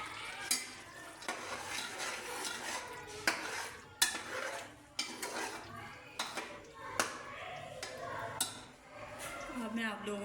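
Chicken korma with masala and fresh coriander being stirred in a pot, with repeated sharp clinks and scrapes of a spoon against the metal over a soft background sizzle, steady and close.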